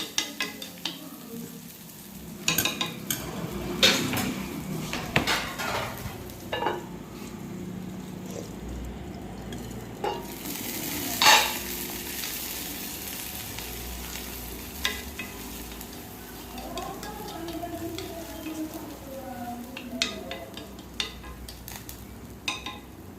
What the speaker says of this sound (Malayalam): വെളുത്തില സവോള അരിഞ്ഞതാണ് കേട്ടോ ഇട്ട് കൊടുത്തത്. ഇനി ഇതൊന്ന് ജസ്റ്റ് ഒന്ന് വഴറ്റി കൊടുത്തതിന് ശേഷം